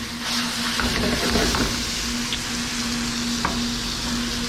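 Eggplant frying in oil in a pan for Sichuan-style hot and sour eggplant, with steady close sizzling, a sustained hum, and stirring scrapes throughout.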